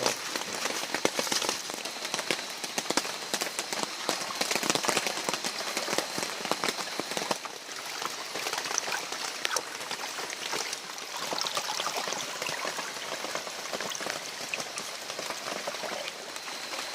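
Steady rain in a forest, a dense continuous patter of drops on leaves and surfaces, loud and even throughout with no voices.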